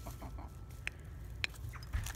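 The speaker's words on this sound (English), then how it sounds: "she's a black sex-link hen" A black sex-link backyard hen gives soft, quiet clucks close by, a couple of short sharp notes spaced apart over a low background rumble.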